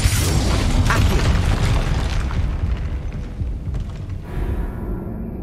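Confringo fire spell blast in Hogwarts Legacy, a loud booming explosion opening on a sharp burst and rolling into a dense, sustained low rumble that trails off into quieter game ambience near the end.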